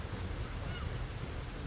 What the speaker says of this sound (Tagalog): Dito ako sa tabing dagat mga Jay.